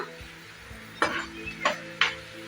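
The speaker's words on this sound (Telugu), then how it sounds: "పల్లీలు బాగా ఫ్రై చేసుకోవాలి నాలుగు మెంతులు వేస్తున్నా" Peanuts and fenugreek seeds fry in oil for lemon rice, a faint sizzle broken by three sharp spoon scrapes against the pan at roughly half-second intervals, close and quiet.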